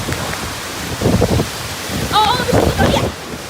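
Rain falls outdoors in gusty wind as a steady broad wash of noise, while voices talk and call out nearby over it.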